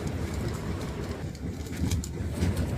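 The Sindang Marga night passenger train runs between Lubuklinggau and Prabumulih, producing a low, steady rumble with rhythmic clattering and faint higher rattles, heard from on board.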